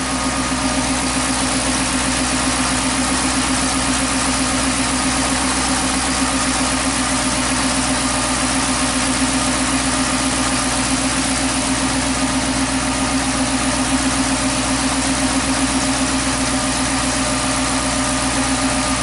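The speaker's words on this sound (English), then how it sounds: "This is what the engine's supposed to sound like." A Chrysler 300 engine idles steadily at close range, a constant low rumble with a faint mechanical buzz, unchanging throughout and with no voices.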